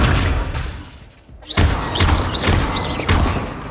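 Accio spell casts in the video game Hogwarts Legacy: a loud thudding impact, then a short lull and a series of about four quick whooshing magical bursts with thumps, all close and forceful.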